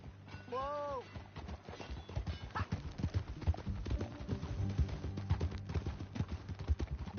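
Horse hooves clip-clop steadily on a trail in Red Dead Redemption 2, with a brief whinny near the start and voices talking over the riding.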